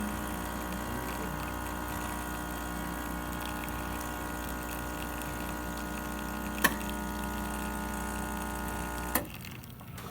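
A Nuova Simonelli Musica espresso machine pump hums with a steady low drone while the shot brews, with a couple of faint clicks before it cuts off.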